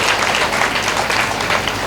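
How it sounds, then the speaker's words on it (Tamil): Audience applause at a Tamil debate event held for a temple consecration, a loud, dense, continuous clatter of many hands clapping close by. "அவங்களுக்கு ஒரு கைத்தட்டு கொடுங்க"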